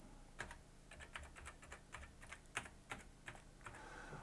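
Keys clacking on a RAFI C14 terminal keyboard used for editing Bildschirmtext pages, with a steady run of distinct close keystrokes at irregular pace and no voices.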